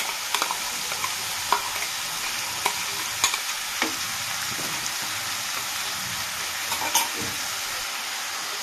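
Pumpkin greens fry in a pan with a ground paste of green chili, onion, garlic and mustard, a soft continuous sizzle punctuated by sharp scrapes and knocks of a spatula stirring at irregular intervals, close and moderately quiet.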